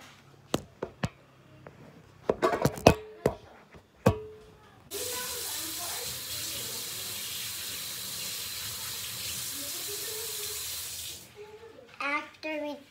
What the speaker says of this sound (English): Okay, I'm gonna wash my hand.